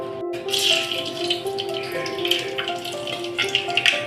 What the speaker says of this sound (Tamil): லைட்டாக வெடிக்க ஆரம்பிச்சிச்சு